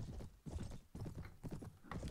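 In a video game battle on an open field, horse hooves clip-clop in rapid, repeated bursts, and a whinny is faintly mixed in. The whole scene sounds moderately distant.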